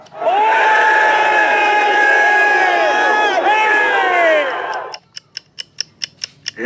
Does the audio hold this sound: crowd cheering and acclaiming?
yes